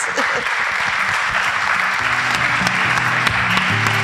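Audience applause at a writing talk event, steady clapping from a seated crowd filling the whole stretch, with a faint voice underneath.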